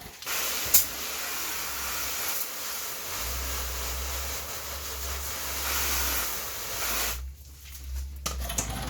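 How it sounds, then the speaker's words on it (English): A steady hiss of water spray rinses car paint before claying, continuous and close, with a low rumble underneath and a brief break near the end. "So we're going to rinse that off."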